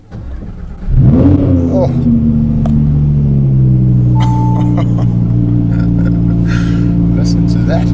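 A straight-piped Audi R8 V10 fires up with a sharp loud bark that settles into a deep, steady, throbbing idle close by, while a person briefly exclaims and faint clicks sound in the cabin.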